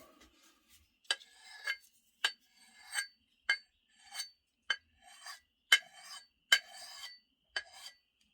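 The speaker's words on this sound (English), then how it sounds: "I'm going to go ahead and sharpen this side though." An axe from Tennessee hardwood work is sharpened with a stone, about ten short rasping strokes in an uneven rhythm, close and crisp with quiet pauses between them.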